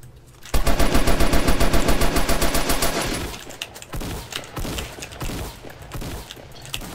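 Shotgun fire in the Roblox game Fortblox: a loud, rapid stream of evenly spaced shots for about two and a half seconds, followed by quieter, irregular shots and game noise.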